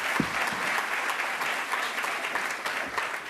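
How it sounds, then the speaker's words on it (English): Audience applause at a Champions of Change event, a steady dense wash of clapping from a large crowd, fairly loud and continuous throughout. "And another round of applause for Cleo."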